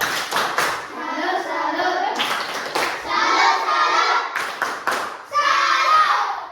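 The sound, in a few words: children clapping in class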